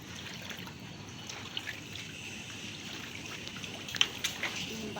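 A weak, thin trickle of running water from a tap in a building restroom, steady and soft throughout with a few faint drips and clinks.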